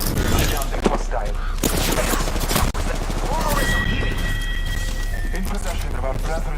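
Gunfire in the video game Apex Legends, with rapid shots and bursts crackling in the background through a busy battle mix, while voices talk over it almost constantly.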